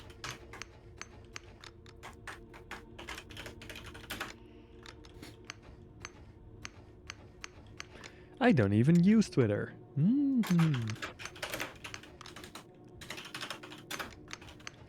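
Loud computer keyboard typing during a Starbase game stream, fast clattering key presses in bursts through most of the stretch, with someone talking over it and a louder exclamation cutting in midway.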